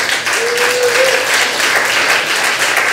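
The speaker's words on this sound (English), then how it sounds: "So please give Jen a big round of applause." Sustained audience applause at a tech design talk, a full room clapping steadily and loudly for the whole stretch, with a faint tone running underneath early on.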